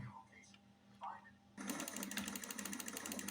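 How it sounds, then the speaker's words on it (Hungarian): Graphics card cooling fan on a Q600 card in an old Core 2 test PC, squealing: after quiet talk, a loud, steady high-pitched whine with a rapid buzzing pulse starts abruptly and runs continuously. "szerintem a felvételen is hallani, hogy sükít az a ventilátor a Q600-ason."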